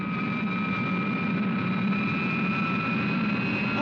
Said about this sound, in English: Beaker, I can hear Supercar's engines.